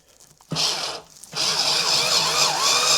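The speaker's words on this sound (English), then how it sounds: "all we need to do is drill a hole in there." A power drill whirs in two bursts, a short spin, a brief pause, then a longer steady drilling run, close and loud.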